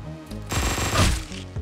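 Rapid enemy gunfire in Hotline Miami 2, a burst of dense, loud shots that swells and fades over about a second, with music underneath.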